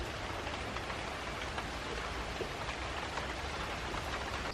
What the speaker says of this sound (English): So it just started raining